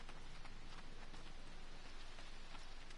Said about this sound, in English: A little bit of reprieve from the harsh rain.